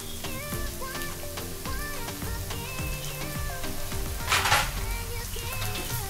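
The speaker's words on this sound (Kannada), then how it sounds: "ಚಿಕ್ಕದಾಗಿ ಕಟ್ ಮಾಡಿರುವಂಥ ಒಂದು ಮೀಡಿಯಮ್ ಸೈಜ್ ಇರುವಂಥ ಈರುಳ್ಳಿನ ಹಾಕ್ತಾ ಇದ್ದೀನಿ." Chopped medium-sized onion sizzles steadily in hot oil for chicken cutlets, a dense continuous frying hiss with light scrapes of stirring and a brief louder crackle burst partway through.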